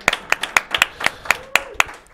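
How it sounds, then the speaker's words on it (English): An audience claps at a live talk-show taping, with sharp, evenly spaced claps in a steady rhythm, loud and close, without voices. "Round of applause for Valerie right there."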